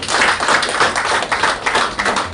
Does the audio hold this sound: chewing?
no